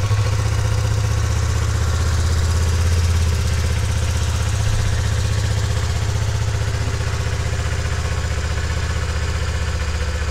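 A Yamaha R25 motorcycle engine runs at a steady idle after starting, a continuous low, even rumble held close and loud throughout with no voices.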